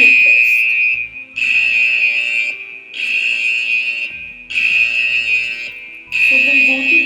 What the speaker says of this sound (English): The beep sound does comes for the drivers, so to notify and grab their attention that they have a new ride request